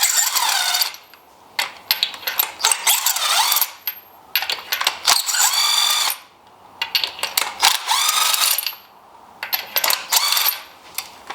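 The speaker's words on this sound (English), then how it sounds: "what I'm actually going to do is use my impact to pull them out" A pneumatic impact wrench spins spark plugs loose on an Acura ILX, firing in several bursts of harsh, rattling hammering, each a second or two long, close and loud, with short pauses between them.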